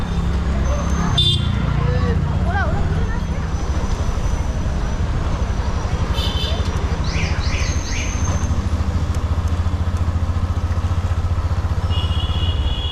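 Motorcycle ride through Chandannagar in fourth gear at moderate speed, a steady close engine drone with wind buffeting, passing traffic, a few horn beeps and bird chirps around it.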